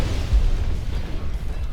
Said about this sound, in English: Fire our rockets.